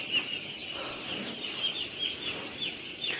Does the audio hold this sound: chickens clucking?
yes